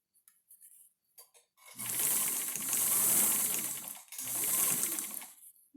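A sewing machine hems the side of a double gauze baby sling, running in two sustained bursts with a brief pause between them, preceded by a few light clicks of handling.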